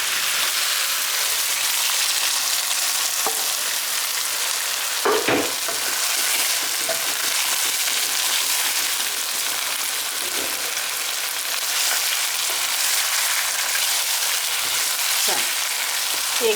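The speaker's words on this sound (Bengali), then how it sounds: "মাঝারি আগুনে 10 মিনিটের মতো ভাজবো।" Chicken and korma spice paste fry in a pan over medium heat, giving a continuous bright sizzle with occasional stirring clicks and scrapes, with no talk over it.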